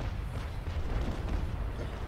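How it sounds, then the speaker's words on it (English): Ship cannons firing in the naval battle game Naval Action, a continuous rumbling barrage of low booms with no clear gaps between shots. "Somebody's shooting at me."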